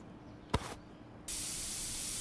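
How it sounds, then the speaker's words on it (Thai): An air freshener spray is used in the Internet Cafe Simulator 2 video game, with a short hiss followed by a longer, loud, steady spray that runs to the end. "ฉีดสเปรย์ซะหน่อยจะได้หอม"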